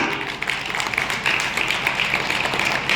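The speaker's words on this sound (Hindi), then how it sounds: "जोरदार ताली के साथ" Audience applause at a motivational seminar hall, a steady dense wash of clapping sustained for several seconds with no voices standing out.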